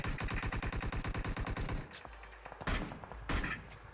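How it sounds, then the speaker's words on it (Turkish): Rapid automatic gunfire from the mobile battle-royale game PUBG Mobile rattles off in a fast, steady burst. A few heavier, isolated shots follow, all loud and close. "Arkadan sıkıyorlar."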